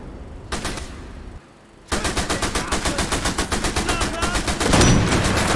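Rapid bursts of automatic gunfire from the PS5 shooter Sniper Elite V2 Remastered, set in a Nazi base: one short burst, a brief pause, then a long loud string of evenly spaced shots ending in a heavier blast.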